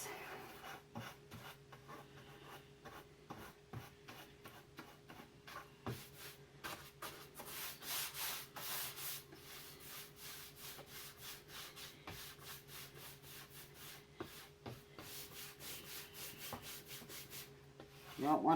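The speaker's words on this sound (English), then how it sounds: "I'll come in and buff it with a t-shirt" A t-shirt rag rubs wax onto a vanity mirror in quiet, repeated scrubbing strokes, a soft rhythmic swishing that swells louder midway and stays close and faint throughout.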